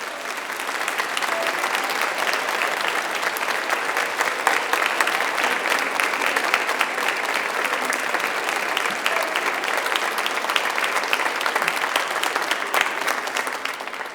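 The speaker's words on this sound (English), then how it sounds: "Give them a huge round of applause." A graduation ceremony audience breaks into a huge, dense round of applause that stays steady and loud for the whole stretch, with no voices standing out.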